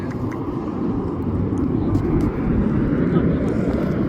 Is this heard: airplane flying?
yes